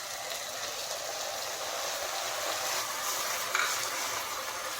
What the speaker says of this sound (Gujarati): આપણે 1 થી 2 મિનિટ સુધી આ આપણી ડુંગળીને સાતળવાની છે